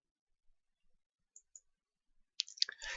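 A computer mouse clicks the Next button in a software dialog with a few faint, sharp, isolated clicks spaced through near silence, followed by a short burst of louder clicking and handling noise at the end.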